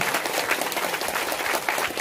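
Crowd applauding a school director at a school donation event, a thick, continuous wash of many hands clapping, loud and steady with no talk over it.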